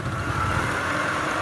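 Engine of a DC70 rice combine harvester running during the rice harvest in a field at Thạnh Trị, Kiên Giang, a loud, steady, unbroken rumble close by with no talking.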